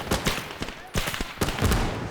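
Gunfire crackles through a World War I battle in the Gates of Hell mod, with repeated sharp bursts and rattling shots over a dense, busy backdrop, some close and loud, others farther off.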